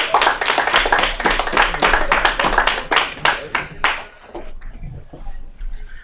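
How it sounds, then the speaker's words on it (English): Audience clapping for a comedian at a live comedy show: a burst of individual close hand claps, loud and rhythmic at first, thinning out and fading after about four seconds. "Give a round of applause for Alex Savant"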